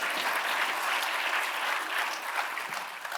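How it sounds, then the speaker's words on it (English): A theater audience applauds steadily throughout, a dense wash of clapping from a large crowd that stays loud and even, with no speech over it. "I just like hearing them applaud"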